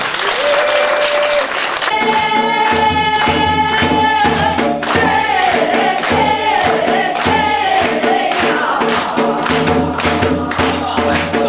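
A large outdoor audience at a pinwheel launch ceremony claps loudly and steadily throughout, while strong amplified music with sustained tones plays over the applause.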